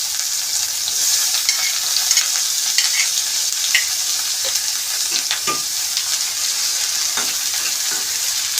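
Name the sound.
chopped onions frying and being stirred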